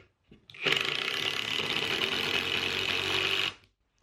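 Kimo cordless impact driver on high speed driving a screw, one continuous three-second whirring, hammering buzz that starts abruptly and cuts off cleanly, close and fairly loud, no speech.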